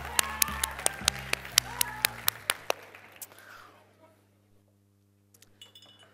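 An audience at a freshmen orientation magic show applauds with sharp, distinct claps over a crowd's clapping wash for about three seconds, then it tapers off into near silence.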